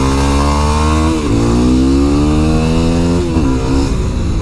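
A Yamaha WR250R motorcycle engine drones loudly and close while riding, its pitch climbing steadily, then dropping twice as gears shift before climbing again.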